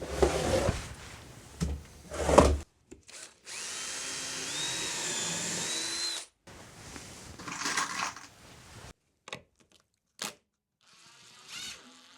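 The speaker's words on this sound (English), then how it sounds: "I'm going to start by drilling some countersunk holes" A power drill whirs in several bursts drilling countersunk holes in a thicknesser, one long steady run in the middle, with short clunks and handling noises between, close by.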